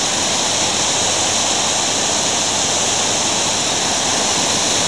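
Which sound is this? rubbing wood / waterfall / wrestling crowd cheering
waterfall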